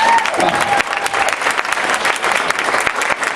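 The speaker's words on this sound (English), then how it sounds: "please give them a rousing applause for all they've done." Applause at a Putnam County retirement party comes as dense, steady clapping from a crowd, close and loud for the whole stretch.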